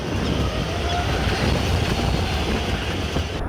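Tram ride through Kraków, a steady low rumble of the moving tram with broadband rolling noise and some wind, continuous and close, with no speech.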